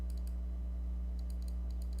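A loud mechanical keyboard with clicky blue switches clatters in short bursts of crisp key presses under a constant low electrical hum. No one speaks.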